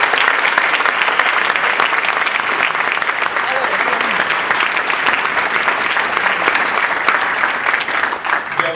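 A conference audience at a district speech contest claps steadily and loudly for several seconds, a dense continuous applause with voices murmuring underneath.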